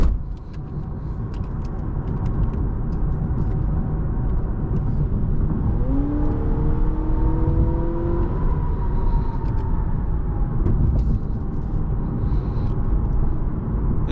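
Cabin drone of a 2023 Honda Accord Hybrid Sport driving in sport mode, a steady low road rumble with a rising whir partway through as it accelerates, no one talking.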